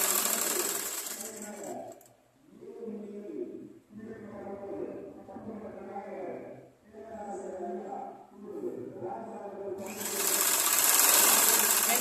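A sewing machine stitching a blouse runs in a loud, rapid whir at the start and again at the end, while a voice talks through the quieter stretch in between.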